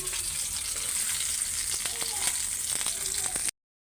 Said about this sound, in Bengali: মাথাটা আমি একটু ভালো করে কড়া করে ভাজতেছি